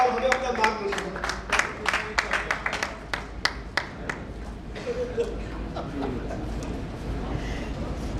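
Audience at a traders' national governing council meeting welcoming Smriti Irani with a burst of sharp, rhythmic clapping that builds then thins into scattered claps and murmuring, with a voice speaking over it.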